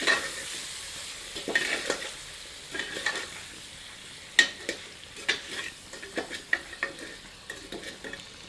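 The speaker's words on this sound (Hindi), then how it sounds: "इसे मुर्ग में अच्छी तरह मिला देते हैं।" A spoon stirs salt into chicken pieces for Rajasthani red chilli chicken in a pan, with irregular scraping strokes and sharp taps against the metal over a soft, continuous sizzle, nearby and fairly quiet.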